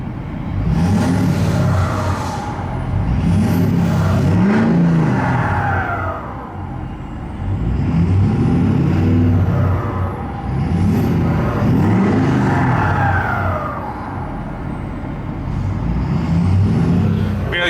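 A 2012 Ford F350 Super Duty Dually Lariat with a Powerstroke diesel engine runs steadily and loudly up close, its rumble swelling and easing in a slow repeating rhythm.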